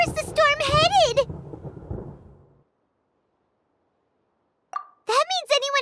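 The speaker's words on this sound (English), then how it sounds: "Paimon hears thunder!" Thunder rumbles low under a high-pitched character voice in Genshin Impact. The rumble fades to silence, then a short plop is followed by more voiced speech.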